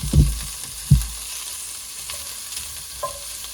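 Sausage browning in a pan for Cajun red beans and rice, with a faint steady sizzle under two sharp knocks of a utensil against the pan early on and a few softer scrapes later.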